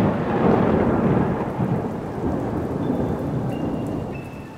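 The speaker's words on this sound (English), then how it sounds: "I didn't think it was supposed to storm tonight." A thunderstorm with steady heavy rain and a deep rolling rumble of thunder fills the scene, loud and continuous, easing slightly toward the end.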